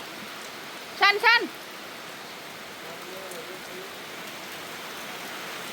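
Steady, soft hiss of rain falling throughout, with a brief spoken word near the start.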